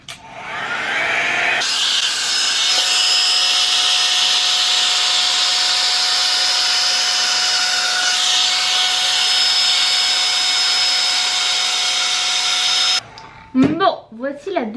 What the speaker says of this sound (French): la brosse prend du temps pour sécher les cheveux